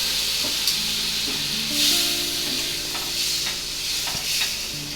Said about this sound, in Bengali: ডালটা আমি এবার আমি দিয়ে দিচ্ছি ডালটা, সেদ্ধ করা ডালটাতে দিয়ে দিলাম।